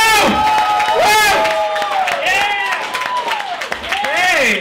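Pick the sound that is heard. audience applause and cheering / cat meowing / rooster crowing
audience applause and cheering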